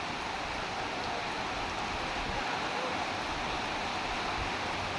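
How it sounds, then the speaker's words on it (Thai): Steady rain pouring down, a dense even hiss of drops on surfaces with no voices, constant throughout. "บรรยากาศนะฝนตกนะครับ"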